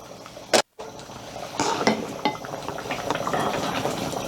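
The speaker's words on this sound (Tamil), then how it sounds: "இப்போ புளி ஆட் பண்ணதுக்கப்புறம் ஒரு 5 மினிட்ஸ் மூடி வச்சு கொதிக்கட்டும்" Dry fish and brinjal gravy with tamarind simmers in a pot, with a brief clank near the start, then a soft, steady bubbling and faint crackle close by.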